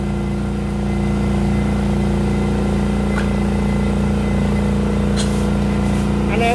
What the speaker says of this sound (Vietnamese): Anh em nghe máy nó đang hoạt động